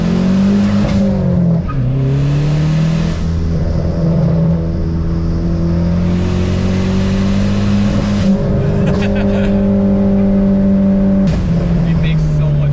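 A Dodge Neon SRT4 engine revs and pulls through steady, rising drones with gear changes, loud and continuous for the whole stretch, while people talk over it inside the car.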